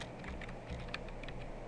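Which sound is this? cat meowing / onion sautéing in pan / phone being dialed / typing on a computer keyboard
typing on a computer keyboard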